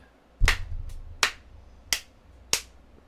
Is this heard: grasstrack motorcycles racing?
no